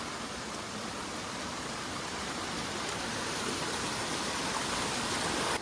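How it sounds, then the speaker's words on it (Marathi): A small monsoon-swollen waterfall rushes steadily in a constant, even wash of splashing water with no other sounds. "आमचो धबधबो असा छोटोसो धबधबो"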